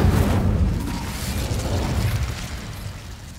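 Incendio fire spell cast in Hogwarts Legacy, a loud rushing burst of flame that swells at once and roars steadily before slowly tapering off, with no talking over it.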